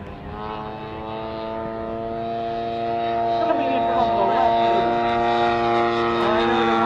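A radio-controlled model airplane flies at the 2024 New Garden Airshow. Its small propeller engine gives a sustained buzzing whine that rises in pitch and grows louder as the plane passes near.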